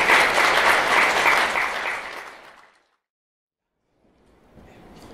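Wedding guests clap for the bride and groom in a loud burst that fades out over about three seconds, leaving near silence, before faint room noise returns.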